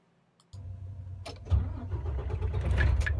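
A tractor-trailer truck engine starts with the clutch in and gear in neutral, cranking briefly before rumbling into a deep, growing idle close by, with a few clicks and knocks on top.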